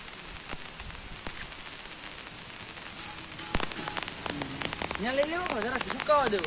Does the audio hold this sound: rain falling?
yes